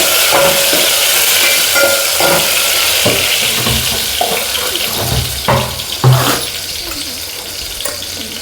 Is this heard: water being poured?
yes